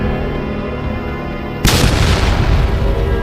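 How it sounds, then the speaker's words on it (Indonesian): A sudden heavy boom from a bazooka shot blasting a horde of zombies, bursting in after a steady droning hum and rumbling on loud and close with dense crackle. "Bazooka diangkat, peluru meluncur, dan dalam sekejap, zombie Dontol bersama pasukannya lenyap dalam ledakan."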